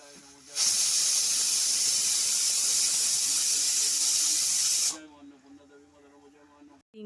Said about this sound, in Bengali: আর দুটো সিটি হতে দেবো